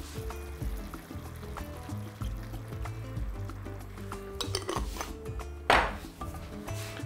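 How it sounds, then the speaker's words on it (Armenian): Liquid pours and trickles into a pan amid clinks and kitchen clatter, with a brief splashy burst near the end. "ավելացնում ենք կաթի սերուցք, մոտ 150 գրամ"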